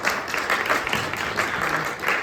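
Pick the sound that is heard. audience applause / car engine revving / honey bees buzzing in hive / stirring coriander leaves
audience applause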